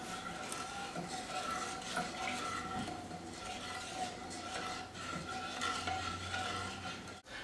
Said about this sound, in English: We're going to go ahead and stir that until the sugar dissolves.